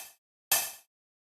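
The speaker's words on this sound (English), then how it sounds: "So it's this nice open hi-hat sound." Open hi-hat sample D5 from a LinnDrum LM1 drum machine, a single bright metallic hiss that rings for about a third of a second and then stops, heard alone after the tail of an earlier hit.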